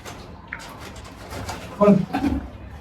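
Pigeons coo in a loft, a short low burst of cooing rising near the end after quieter rustling, with a voice faintly present.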